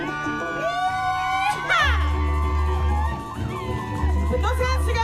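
An audience at a wedding blessing luau in Huntington Beach cheers and whoops for volunteers, with bursts of shouting and excited children's voices over a low hum, while people talk throughout.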